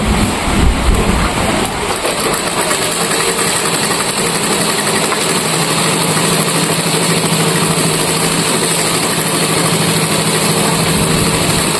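A sewing machine stitches a bag made from a rice sack, giving a steady, continuous mechanical whir that runs loud and unbroken throughout without talk.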